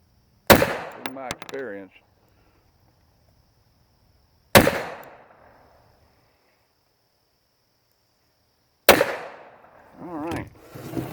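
An SCCY CPX 380 pistol fires three loud, sharp shots spaced about four seconds apart outdoors, each with a short echo, and someone speaks briefly between them.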